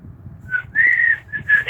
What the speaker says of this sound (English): they would whistle that like while they were loading the gear in